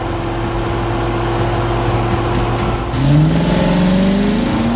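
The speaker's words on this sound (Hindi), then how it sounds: "सड़क के किनारे पुलिस की गाड़ियां और एम्बुलेंस तेजी से गुजर रही हैं" Police cars and ambulances speed past on a quiet road after a dump truck crash, with a steady engine drone that gives way to a louder, rising rush of accelerating vehicles halfway through.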